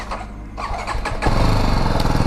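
A 2021 BMW G310R single-cylinder motorcycle's exhaust, quiet at first, then revving up loud and close into a thick, throbbing single-cylinder note that holds strong to the end.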